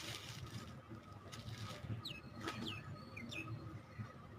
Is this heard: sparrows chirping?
yes